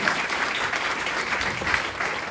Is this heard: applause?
yes